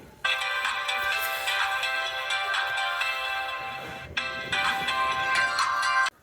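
An RFL keypad mobile phone's ringing tone plays as a bright, repeating electronic melody, close and clear, in two bursts split by a short break, with no one talking.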